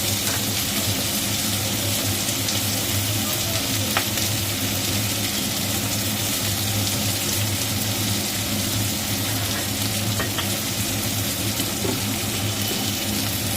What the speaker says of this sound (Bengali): এবার নুন হলুদ সব দিয়ে ভালো করে মশলাটা কষাবে